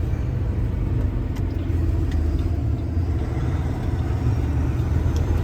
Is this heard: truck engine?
yes